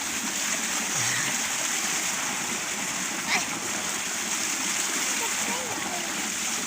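Irrigation water pours and splashes steadily where people bathe beside a rice-seedling field, a loud, continuous rushing wash close by, with faint voices beneath.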